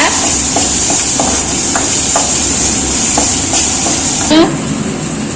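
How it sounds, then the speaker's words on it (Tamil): Onions fry and are stirred in a pan for a jackfruit-seed curry, a continuous sizzle broken by scattered scraping clicks from the spoon, close and fairly loud, with a brief louder scrape near the end. "வெங்காயம் நல்லா வறுத்து எடுத்துக்கலாங்க"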